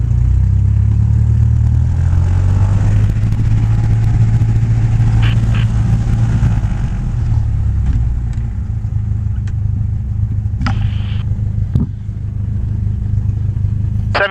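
A small training airplane's piston engine runs steadily at 1700 RPM during a pre-flight run-up, a loud constant droning rumble heard close up from inside the cockpit, with a few brief clicks and rattles over it.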